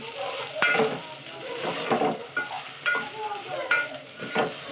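Cooked rice being mixed by hand with avakaya mango pickle, giving soft squelching, pressing sounds in an uneven rhythm up close, with faint clinks from a dish.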